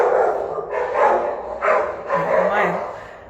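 Dogs bark in the background while someone talks, several muffled barks spaced across a few seconds and partly buried beneath his steady Spanish speech.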